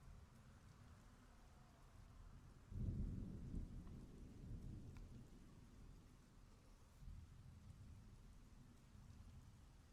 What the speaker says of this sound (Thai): ตอนนี้ฝนตกหนักมาก